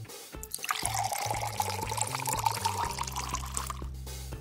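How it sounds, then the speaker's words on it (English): Water is poured over gelatin in a thin, continuous trickling stream, with the pitch slowly rising as the container fills. It is quiet and close, with no talking. "Cover gelatin with water."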